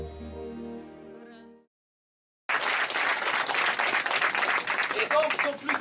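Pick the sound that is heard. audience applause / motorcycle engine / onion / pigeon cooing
audience applause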